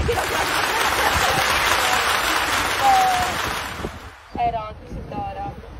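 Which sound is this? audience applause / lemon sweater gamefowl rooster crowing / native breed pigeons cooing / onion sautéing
audience applause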